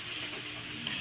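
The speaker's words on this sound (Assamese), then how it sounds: "এতিয়া অলপমান মই ইয়াত ভাজি অলপমান পানী দি দিম যাতে মছলাটো জ্বলি নাযায়।" Masala with tomatoes frying in a pan, a steady soft sizzle with faint stirring scrapes, continuous and fairly quiet.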